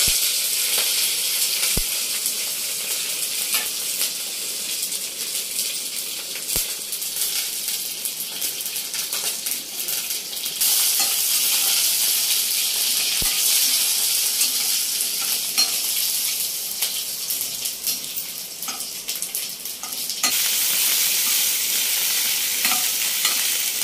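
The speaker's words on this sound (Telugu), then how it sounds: "ఎండుమిరపకాయలు ఇవన్నీ కూడా పోపు వేసుకుంటున్నాం. కరివేపాకు, జీలకర్ర," Dried red chillies, curry leaves, cumin and fenugreek sizzle in hot tempering oil for Andhra sambar, a steady close crackling hiss with brief stirring clicks and louder bursts as more goes into the pan.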